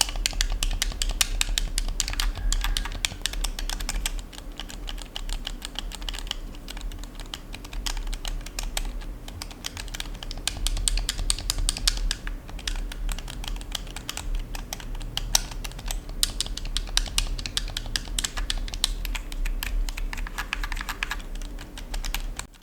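Rapid clicky button presses on a GameSir T4 Pro wireless gamepad, dense and continuous, fairly close, with short bursts and brief pauses, no talking.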